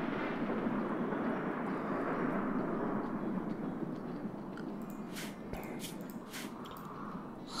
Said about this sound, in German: Schlagen die Blitze ein.